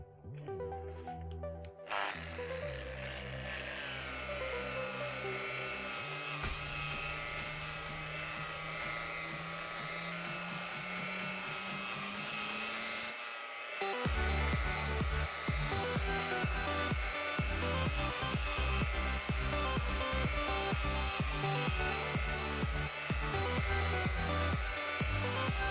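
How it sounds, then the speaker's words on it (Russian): An angle grinder with a fur polishing pad whirs loudly and continuously while polishing Venetian plaster, a high motor whine with shifting pitch that grows rougher and louder partway through. "Теперь я беру болгарку с меховой насадкой для полировки."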